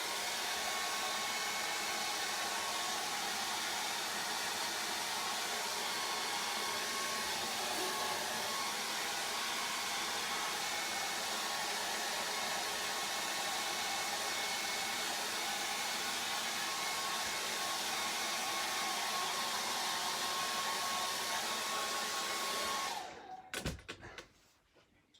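A hair dryer blows steadily over a watercolour painting, a loud, even whooshing roar held for over twenty seconds before it cuts off abruptly, followed by a few soft knocks.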